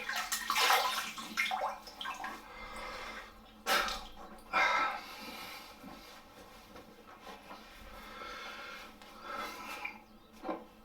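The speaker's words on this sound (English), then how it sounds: "Get the Alum washed off, it's done its job." Running water rinses alum off skin, a close splashing flow with uneven surges and a few louder splashes as hands move through it.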